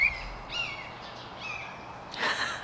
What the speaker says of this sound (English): There's a family of hawks that live over here, and they've been noisy all day